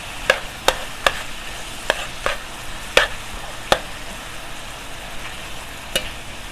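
Ginataang laing cooked with sardines being stirred in a pan, giving a steady low sizzle broken by a series of sharp, regular utensil scrapes and clinks against the pan, close and fairly quiet, with no talking.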